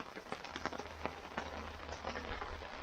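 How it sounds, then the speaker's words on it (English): Rain patters irregularly on a surface, quiet and close, with scattered louder drops over a low steady hum. "It's raining pretty good."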